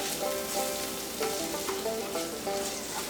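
Vegetables — onion, tomato, and yellow and green bell peppers — frying and being stirred in a pan on a stovetop with salt and pepper, a steady close sizzle broken by scraping stirs and light utensil knocks.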